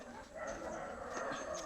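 Two dogs barking at a cat around a home, heard somewhat faint and distant against a steady background hum, with no clear talk over them.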